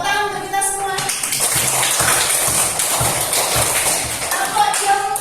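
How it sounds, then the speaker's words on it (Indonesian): Children in an elementary school classroom clap together in a dense, patter-like burst of applause, with voices heard at the start and end. "Tepuk tangan untuk kita semua."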